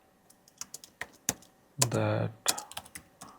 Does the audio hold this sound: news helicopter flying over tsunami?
no